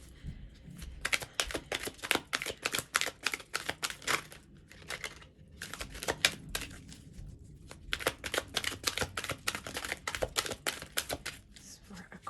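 Tarot cards shuffled and drawn by hand for a reading, a fast run of crisp riffling and flicking bursts that stop briefly and then resume, close to the microphone with no voice over them.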